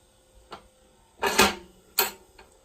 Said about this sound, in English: until the cases fall out of the machine level.